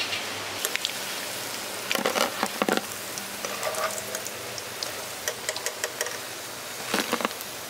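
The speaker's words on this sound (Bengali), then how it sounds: "বাকি যে ব্যাটারটা পড়ে আছে সেটাও এরকম সেমভাবে ভেজে নিচ্ছি" Leftover pointed gourd pakora batter fries in hot oil in a village-style kitchen, a steady close sizzle broken by repeated bursts of louder crackling and spitting.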